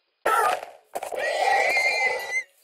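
A horse in the Minecraft video game gives two loud, close whinnies, a short one and then a longer, wavering neigh, each standing alone against silence.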